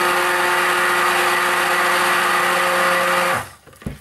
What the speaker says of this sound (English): I took the stick blender too high up.